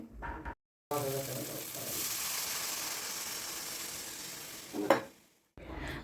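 Water is poured into a spice paste frying in a wok for a pointed gourd curry, giving a sudden loud sputtering hiss that settles into a steady bubbling sizzle, with a brief clatter near the end and short pauses.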